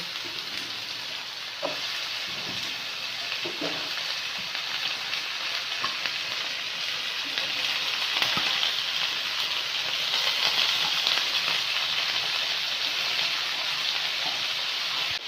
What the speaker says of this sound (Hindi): आलूओं को अब हम फ्राई करेंगे ऑयल में।